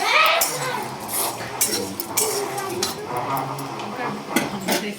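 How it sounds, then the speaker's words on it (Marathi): A spoon keeps turning freshly ground masala as it roasts in a kadai over low heat, making continuous close scraping and clattering against the metal pan. "हे आपण सगळं आता ह्या कढईमध्ये भाजून घेऊ"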